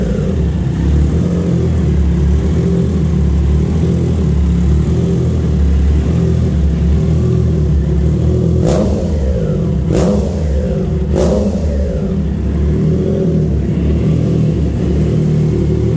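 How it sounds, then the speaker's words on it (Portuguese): A Triumph Trident 660 motorcycle with a loud full race exhaust rumbles steadily up close, then blips its throttle in three sharp revs before settling back into a deep idle. "vocês vão ouvir o ronco da Trident com o Gescapão Full Race"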